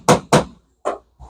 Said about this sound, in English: I'm going to be bucking rivets and Jan's going to be hammering them